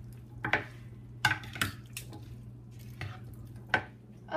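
Spoons mix a seasoned salad in a bowl, making a few separate clinks and soft squishy scrapes against a quiet low hum; no talking.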